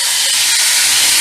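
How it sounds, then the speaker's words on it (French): Duck breast (magret) searing skin-down in a hot pan with no added oil, a loud, steady, close sizzle that runs unbroken throughout with no voices. "une fois notre poêlon est chaud, là nous allons mettre le magret dedans"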